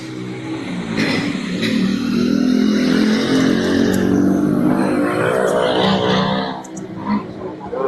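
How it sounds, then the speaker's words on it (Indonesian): A motorcycle exhaust revs up and holds a loud, rough roar, then drops away toward the end, close by. "Suaranya knalpot."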